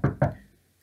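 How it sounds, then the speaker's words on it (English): Two quick, solid knocks on a wooden door, close and clear, followed by a short fading room echo. "I ran to his door. I knocked and knocked."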